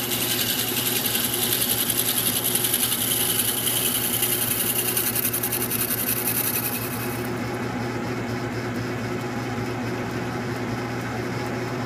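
A cutter machines an angled taper on a metal organ violin pipe for a band organ, a steady buzzing mechanical drone with fast rhythmic chatter that eases slightly partway through, close and without talk.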